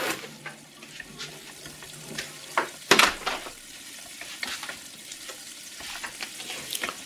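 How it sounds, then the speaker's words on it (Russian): Garlic frying in a pan while cooking shakshuka with bulgur and jalapeño, a soft continuous sizzle broken by scraping stirs and one louder clatter, with faint room and outdoor noise behind it. "Чеснок жарился минуту"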